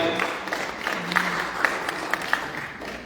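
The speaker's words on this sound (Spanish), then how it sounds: "Ese aplauso tímido" A church congregation gives faint, scattered applause, a sparse patter of claps that stays quiet and thin for a few seconds, with no voices over it.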